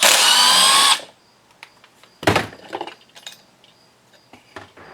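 An impact driver removing screws from a chainsaw: one loud, close burst of whirring, hammering rattle for about a second, then scattered metallic clinks and clatter as the screws and tool are handled, with no talk.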